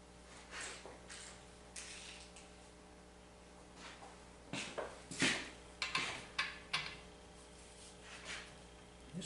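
A torque wrench brings Hayabusa engine bolts to final torque with a run of faint, sharp clicks and ratcheting ticks. Near the end they come in quick uneven bursts against a quiet background.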